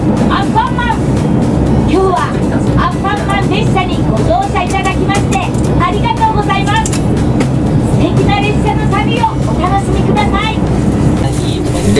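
A JR Shikoku train pulling into Gomen station, heard from inside a green car, with a loud steady rumble of wheels and motor, repeated rhythmic clacks and squeals, and a voice speaking over it.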